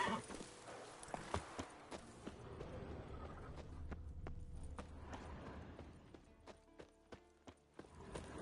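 Horse hooves clip-clop in a steady trotting rhythm across the El Brujo game, picking up pace, with occasional sharp thuds and a low rumbling background under the repeated clops.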